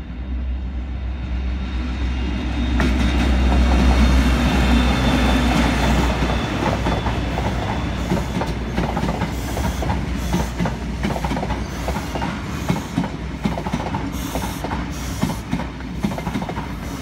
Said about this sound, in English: Little locomotive at the front, number 57604 is on the locomotive.